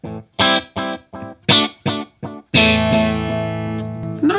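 Electric guitar played through a Zoom 505II multi-effects pedal on a dark, analog-style delay setting: six or seven short picked notes, each trailed by soft echoes, then a long sustained ringing chord that slowly decays, close and fairly loud.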